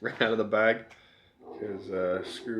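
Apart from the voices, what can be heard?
No distinct noise like a dog, phone or traffic.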